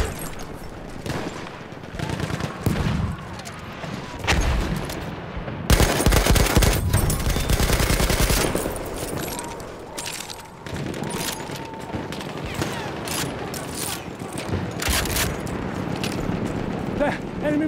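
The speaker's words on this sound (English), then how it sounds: "Enemy machine gun." Machine gun fire in the video game Battlefield 1 during a Conquest Assault match, rapid bursts and scattered gunshots in repeated volleys with explosions and battle noise, loud and dense at times.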